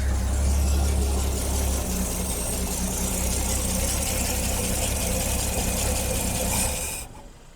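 A Ford Falcon engine with a faulty carburetor running roughly at a steady, loud, close drone with a faint knocking texture, then abruptly dying and falling quiet near the end.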